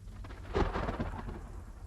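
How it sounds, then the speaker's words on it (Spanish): A thunderstorm with heavy rain, a brief rumbling thunder burst swelling over steady rain hiss, fairly quiet and short. "la lluvia crecía en intensidad. Más que una simple lluvia, ya era una tormenta, y los relámpagos se encargaron de hacerlo notar"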